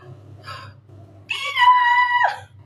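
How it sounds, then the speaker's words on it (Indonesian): A child lets out a loud, sustained angry scream of about a second, preceded by brief softer vocal sounds over a low background hum. "Rara berteriak marah."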